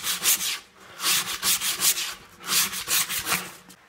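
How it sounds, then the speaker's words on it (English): Sandpaper rubs back and forth over the cut edges of an old tyre being made into a seat, a close, rhythmic series of gritty scratching strokes in steady bursts. "Just use a bit of sandpaper after you've cut them."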